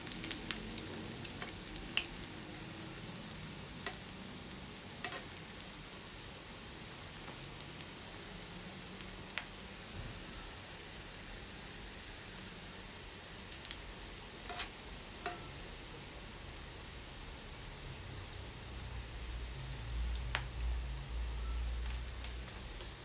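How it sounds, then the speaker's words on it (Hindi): Egg balls deep-frying in hot oil over a medium flame make a continuous soft sizzle with scattered crackles and pops, steady for a long stretch, and no talk. "अब हम इसके अंदर एग बॉल्स डाल लेंगे। इसको गोल्डन ब्राउन होने तक फ्राई करेंगे।"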